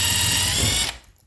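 A power drill whirs steadily as it backs out screws holding a plate to a bathroom wall during remodel demolition, running loud for about a second before stopping abruptly.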